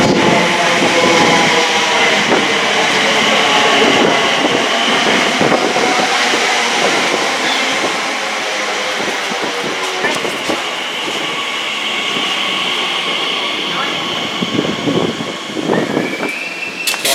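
An Elizabeth Line train pulls into a London station, a loud rumble with screeching brake and wheel squeal and rattling carriages that slowly eases as it stops, with station announcements over the noise.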